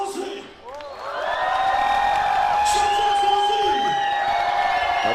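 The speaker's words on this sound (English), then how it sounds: "Who here is cheering for Team Lausanne? Make some" Crowd at a FIBA 3x3 World Tour basketball event in Ulaanbaatar cheers and whoops loudly and continuously, swelling after a second with scattered shouts on top.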